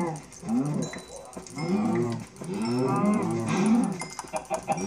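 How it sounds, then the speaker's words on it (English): A herd of Minecraft cows, likely mooshrooms, moos several times in close succession, loud and near, with a faint voice in the background. "they got a lot of cows."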